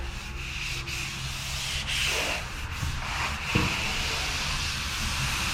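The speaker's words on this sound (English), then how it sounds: "I was just getting ready to start sanding on the roof" Hand sanding on a car roof's bodywork, a steady close abrasive rubbing hiss that continues throughout with slight strokes and surges, no voices.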